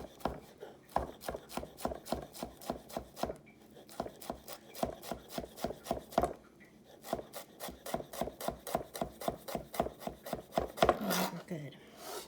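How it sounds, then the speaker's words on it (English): A knife rocks rapidly through a pile of herbs on a wooden cutting board, producing a steady, close run of sharp even taps with only a couple of brief pauses. "Rocking that knife."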